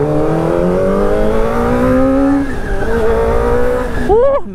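A motorcycle engine revving up close, its exhaust note rising in pitch, easing off, then climbing sharply again at the end.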